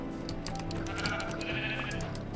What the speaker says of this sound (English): I found a sheep.